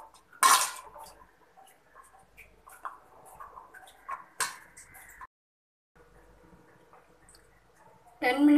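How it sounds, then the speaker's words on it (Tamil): Peanuts being mixed with squeezed lemon juice in a bowl for a Tamil beach-style peanut snack, with scattered clinks and rattles of a spoon and nuts against the bowl under intermittent talk, up close. "லெமன் சாறு இப்படி பிழிஞ்சு விட்டுக்குங்க. இப்படி மிக்ஸ் பண்ணுங்க."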